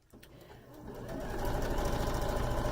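A sewing machine stitching an inner panel for a sew-along project, starting with a few clicks and then running steadily, loud and close, with no talk.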